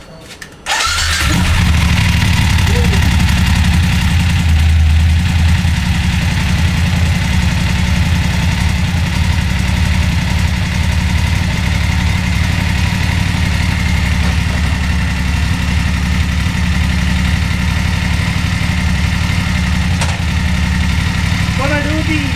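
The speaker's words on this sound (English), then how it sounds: "Let's start the bike and see how it is after a long time." A motorcycle engine fires up after sitting unused for a long time on an almost empty fuel tank, then settles into a steady, loud idle that runs on alone.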